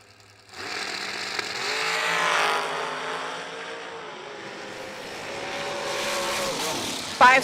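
Drag racing cars launch and scream down the lanes at a Winter Warmup meet, a loud continuous engine roar that rises and holds for several seconds, ending in a sharp burst near the close.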